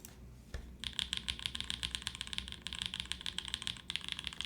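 Someone types steadily and rapidly on a Freya65 all-glass keyboard with an aluminum plate, 50A O-rings, lubed switches and GMK keycaps, giving close, crisp, rhythmic key clacks after a brief pause.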